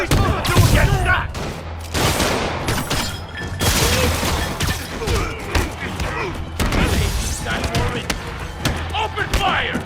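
Gunfire in a Spider-Man video game, loud bursts and thumping impacts crowding a dense combat mix, with voices shouting over the action.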